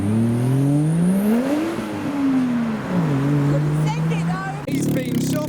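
A Toyota Verossa JZX110 revs at a car meet, its engine swooping up and down through several sustained, loud pulls, with crowd chatter and other car noise mixed in behind it.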